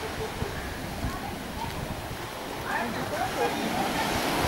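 Ocean surf breaking on the rocky coast of La Palma in the Canary Islands, a steady loud wash of waves with surges building toward the end, under wind and a voice.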